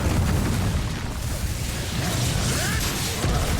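A fire spell, Incendio, blasts during a troll fight in Hogwarts Legacy, a loud sustained whoosh and rumble of flame with low booming energy that runs steadily for several seconds.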